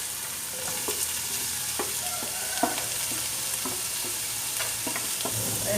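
Tomato, capsicum and pepper frying in a pan for egg bread chilli, making a continuous close sizzle broken by a few sharp clinks of a spatula stirring, with no talking.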